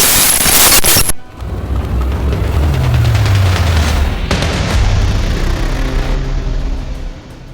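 A sharp blast cuts off abruptly, followed by a deep, rumbling boom that rolls on loudly for several seconds before fading.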